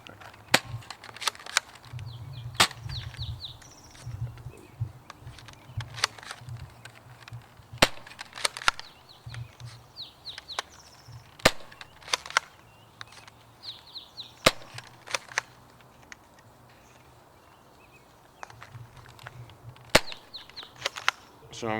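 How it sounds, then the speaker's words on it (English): A Nerf Sidestrike blaster firing green Zombie Strike foam darts, giving a steady run of sharp snapping pops, some close and loud, others lighter, with small clicks and rattles between shots and no talk. "We're going to be shooting the Sidestrike with the green darts, the zombie strike darts."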